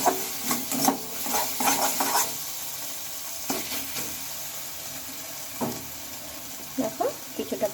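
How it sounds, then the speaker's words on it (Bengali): Spice paste frying in a pan with a little water poured in, giving a broad hiss and sizzle broken by intermittent stirring scrapes and clinks, moderately loud and close. "এখন এটার মধ্যে দিয়ে নেবো আমি অল্প একটু জল"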